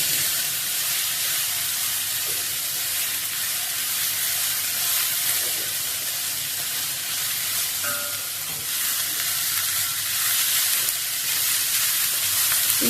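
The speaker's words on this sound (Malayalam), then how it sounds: "അതുവരെ നമ്മളിങ്ങനെ വഴറ്റിക്കൊണ്ടിരിക്കുന്നത്" Ginger sautéing in a pan for Kerala ginger curry for an Onam sadya, a continuous close hissing sizzle that stays steady throughout, with only faint stirring and no talk.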